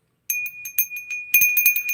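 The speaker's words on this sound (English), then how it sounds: "You got a Yellowstone bell with the bear." A small souvenir Yellowstone bell topped with a bear rings with bright, clear jingling strikes. It starts suddenly after a short silence, rings repeatedly and close up, and grows a bit louder toward the end.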